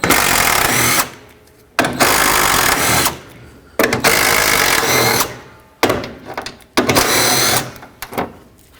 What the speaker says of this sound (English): Then switch to a 10mm and remove these 4 bolts here.